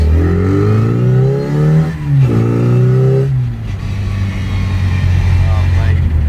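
A souped-up classic MINI with a proper distributor revs and accelerates through the gears, its engine note climbing, dropping at shifts and rising again, loud and close with people talking over it.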